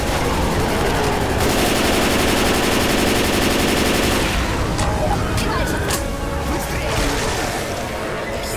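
Machine gun fire in the zombie shooter Left 4 Dead 2, a dense sustained rattle of rapid shots lasting several seconds and then giving way to scattered gunfire and in-game chaos, with talk heard underneath.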